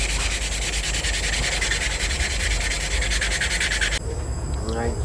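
Sandpaper rubs back and forth over a forged hamon steel blade in quick, even strokes, a loud close rasping scrape that runs steadily for about four seconds before stopping abruptly.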